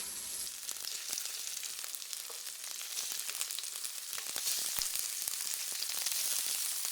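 Shrimp fry in a very hot pan of olive oil for a Spanish seafood paella, a steady crackling sizzle with dense popping spatters throughout, growing slightly louder toward the end.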